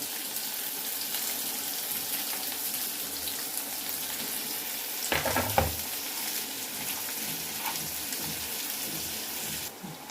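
Chopped spring onion fries in a pan with a continuous moderate sizzle, and a brief clatter of stirring breaks in midway.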